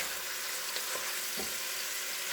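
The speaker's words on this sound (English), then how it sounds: "We're gonna brown this, and then we'll add our onions and garlic in here." Plant-based ground sausage sizzles as it browns in a pot, a steady hiss of frying with a few faint clinks of stirring, heard alone at moderate level.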